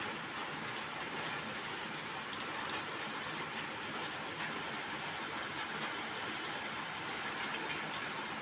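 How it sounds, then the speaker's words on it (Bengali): Heavy rain pours down in a dense, steady hiss that stays even throughout, with no voices heard. "খুব বৃষ্টি হচ্ছে"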